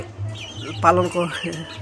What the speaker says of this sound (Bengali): এই হচ্ছে আমার ব্রয়লার মুরগি এবং টাইগার মুরগির বাচ্চাগুলো।